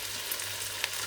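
Ham stir fry with vegetables sizzling in a Ninja Foodi, a dense continuous hiss with a couple of faint spatula clicks as it is stirred.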